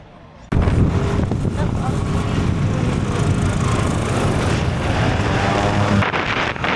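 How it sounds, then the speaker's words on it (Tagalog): A motorbike on a trip in Bohol starts abruptly after a quiet moment and runs loudly for about six seconds, a harsh continuous roar mixed with wind buffeting before it drops away. "Ito yung aming motor."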